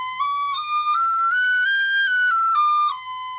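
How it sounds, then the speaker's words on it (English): An Elfsong Enchantress D tin whistle plays a slow melody, pure breathy tones stepping up and down between sustained notes, close and solo. "So back to the D tin whistle."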